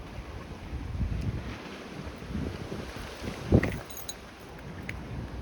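Wind blows off the lake at a lakeside park in Scarborough, Toronto, a steady low rush and buffeting across the microphone with faint lapping water beneath, unbroken throughout and no talking.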